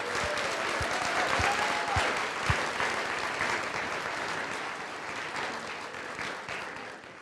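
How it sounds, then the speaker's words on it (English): An audience at a community college gathering gives a sustained round of applause for the students' families, dense clapping that swells early and slowly fades toward the end. "So give them some applause"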